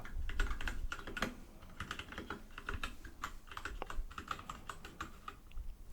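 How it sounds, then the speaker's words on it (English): Rapid, irregular clicking of keys on a computer keyboard, close and crisp, with bursts of fast typing and brief pauses, no voices. "you like the keyboard sounds"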